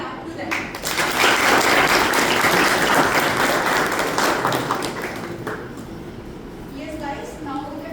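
An audience at a college AI conclave applauds a student panel, a loud swell of clapping that builds quickly and fades toward the end as a voice starts talking.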